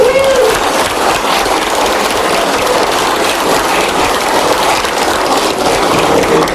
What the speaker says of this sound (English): We would like to have an applause for the Dutch organization, for Tesla, with all your employees